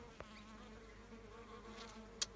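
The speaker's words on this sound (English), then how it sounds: "the bees are drinking from the cloth" Soft, steady buzzing of bees close by as they drink from a wet cloth during a drought, with a couple of brief sharper sounds as insects pass near.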